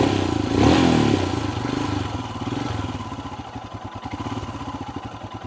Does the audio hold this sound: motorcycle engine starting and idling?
yes